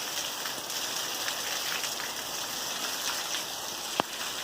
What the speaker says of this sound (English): it's raining pretty heavy